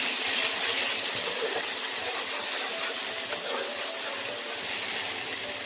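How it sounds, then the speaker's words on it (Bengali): Water poured into kadai paneer masala cooking in a pan, so the spices don't burn: a loud, continuous rush of splashing and sizzling, close up and without a break. "মশলাটা যাতে পুড়ে না যায় তার জন্য আমি আরো একটু জল দেবো।"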